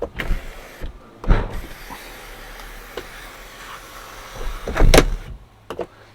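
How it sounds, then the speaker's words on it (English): Fiat 500C electric soft-top roof closing, a soft motor hum running under several sharp clicks and clunks, with a louder thud near the end, close up and without speech. "Let's close the roof fully and try it again"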